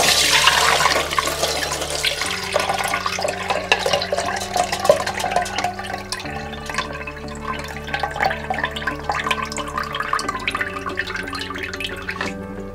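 Rice soaking water poured from a bowl into a container, a continuous splashing trickle with drips, close and moderately loud, tapering slightly toward the end.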